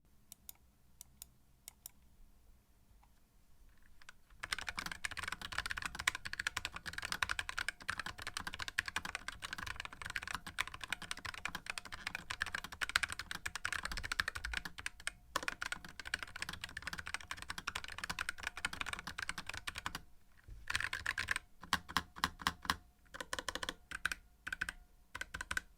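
Rapid typing on a Satechi SM1 mechanical keyboard, dense clattering keystrokes with spacebar hits, close and steady after a few quiet seconds, pausing briefly near the end.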